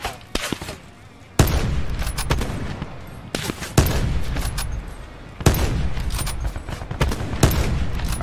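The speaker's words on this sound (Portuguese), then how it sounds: "Não, mas eles estão atirando na gente, sabe?" Repeated bursts of automatic gunfire ring out in Call of Duty Blackout battle royale, with sustained rapid volleys separated by brief gaps, fairly loud and close with a faint voice underneath.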